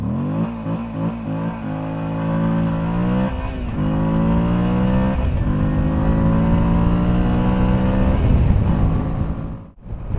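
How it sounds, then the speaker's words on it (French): Moto Guzzi V85 TT motorcycle accelerating at full throttle from a standstill to 100 km/h, loud close engine note rising in pitch through several gear changes, then a brief drop as the throttle closes near the end. "je vais vous faire un petit départ 0-100 km/h à bloc"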